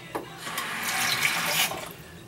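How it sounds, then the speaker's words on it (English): Water from a kitchen tap runs steadily and fairly close while apple pie dough is being mixed, a continuous splashing hiss over about two seconds with no talking. "we need a little bit more water"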